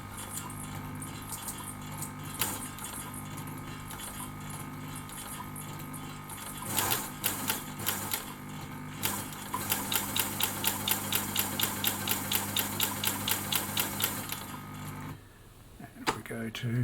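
Elna sewing machine with a walking foot attachment, its motor humming steadily before breaking into a fast, even ticking stitch rhythm that runs several seconds then stops, with a person speaking over it.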